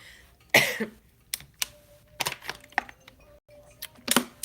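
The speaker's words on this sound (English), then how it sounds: "The coughing is just out of control." A single sharp cough up close, followed by scattered clicks and light tapping sounds in a quiet room.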